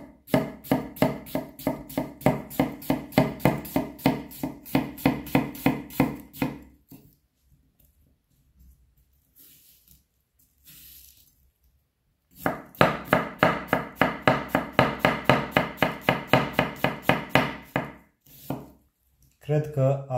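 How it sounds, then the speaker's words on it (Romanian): A Tsunehisa SLD Santoku knife chops food on a board in two bursts of rapid, even strokes, close and crisp, separated by a few seconds of near silence. "la un pic de tocat"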